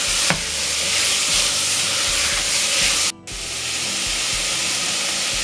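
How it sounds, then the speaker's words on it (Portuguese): Chopped onion sizzles steadily in a pan, a continuous broadband hiss with a few soft stirring knocks and a brief dip in the middle. "Vamos acrescentar 1 cebola picadinha."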